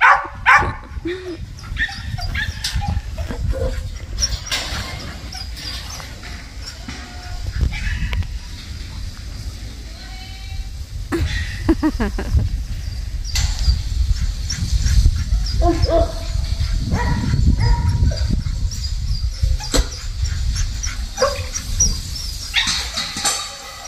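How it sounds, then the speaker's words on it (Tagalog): A dog barks in sharp yips and whimpers excitedly, close by, scattered across the whole stretch while people talk over it. "Yung aso ni Gwen, pipick upin namin ngayon"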